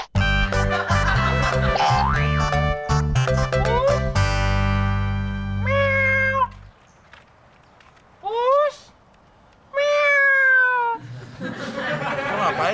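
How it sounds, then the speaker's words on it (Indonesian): A cat meows several times in drawn-out, rising calls separated by pauses, following a burst of loud, clattering comedic sound effects, with voices in the scene. "Ngapain, Mon, manggilin kucing?"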